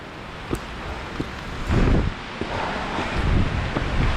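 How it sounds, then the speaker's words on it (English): Strong gusts of wind roar across a mountain top during a hail and wind storm, buffeting the microphone in loud bursts with scattered rustling and sharp knocks. "it's getting really windy up here"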